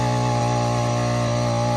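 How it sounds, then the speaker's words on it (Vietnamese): A Takyo TK3B wheeled push-frame earth auger drills planting holes for durian trees, its small engine giving a loud, steady, unbroken droning hum throughout, with no speech. "hãy sử dụng máy khoan đất đẩy tay Takeo TK3B"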